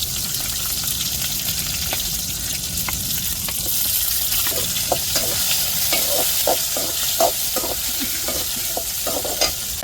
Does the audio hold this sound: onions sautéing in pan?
yes